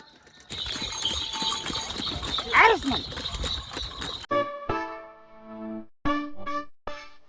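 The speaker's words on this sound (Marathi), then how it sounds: "चला निघूया आरवाडीला, ते पण बैलगाडीतून." A bullock cart travels a village road on the way to a Biroba fair, with rhythmic hoof clopping up close and bright jingling that grows more prominent toward the end.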